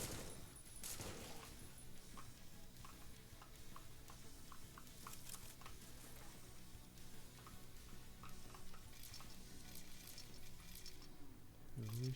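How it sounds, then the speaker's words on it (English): Bursts of gunfire aimed at the player in the shooter game Supplice crackle as a steady dense barrage, with scattered sharper shots over a constant noisy game soundscape. "Who is shooting at me? I heard you."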